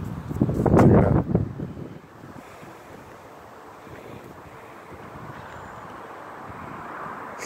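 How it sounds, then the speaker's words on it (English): Wind gusts buffet an outdoor microphone, a loud rumbling burst at first that eases into a steady, softer rushing roar. "It's getting a hella windy over here right now."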